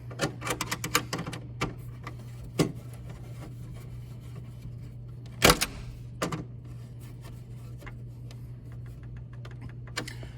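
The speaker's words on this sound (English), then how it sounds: "land these screws under the terminal screws and tighten them up" Screws are driven and tightened under the terminal screws of an electrical panel, heard as close, irregular clicks and ticks with one sharper metallic knock midway, and no talking.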